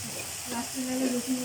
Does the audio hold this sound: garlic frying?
yes